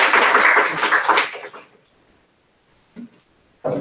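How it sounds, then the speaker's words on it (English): A round of applause from a guest-speaker audience, many hands clapping loudly and close for about a second and a half before fading to near silence, followed by a couple of short isolated sounds. "So let's give a round of applause to Alicia Young"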